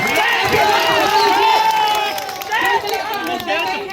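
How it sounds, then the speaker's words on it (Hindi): Election rally crowd in Sheohar cheering and shouting loudly, a dense roar of voices and whoops that rises and dips but never drops away. "शिवहर के लोगों का बहुत धन्यवाद, जोरदार तालियां।"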